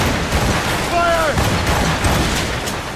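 Ship cannons firing a broadside in the naval combat of Assassin's Creed Rogue, a dense, loud rumbling barrage of overlapping booms continuing throughout, with a brief voice shout in the middle.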